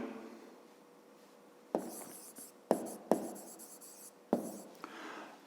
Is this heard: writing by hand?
yes